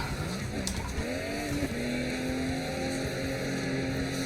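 Drift car engine held at full throttle during advanced tandem drifting, a loud sustained droning roar that climbs in pitch and then holds steady, with no talk.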